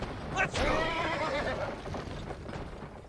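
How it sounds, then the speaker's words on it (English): Horse neighing with galloping hoofbeats in the western video game GUN, a sharp whinny up front followed by steady clip-clop hooves and faint game sounds. "Oh no, I am riding my horse too hard."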